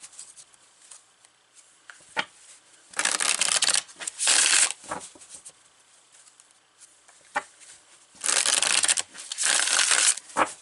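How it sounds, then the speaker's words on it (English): A deck of tarot cards being shuffled by hand in several short, crisp riffling bursts separated by quiet pauses, close and clear with no talking. "we're going to pull more cards here"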